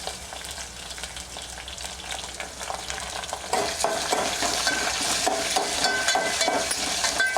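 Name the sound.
green chilli and tomato frying and being stirred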